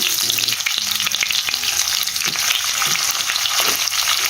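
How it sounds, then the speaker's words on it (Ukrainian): Steady loud sizzling of chicken livers frying in butter and oil in a hot pan over high heat, with occasional soft scrapes of stirring, no voices. "Смажити будемо на великому вогні 2-3 хвилини"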